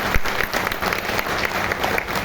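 Applause from a women's audience at a Vestige direct-selling meeting in India, a steady wash of clapping throughout that stays fairly close and dense, with a little crowd noise mixed in.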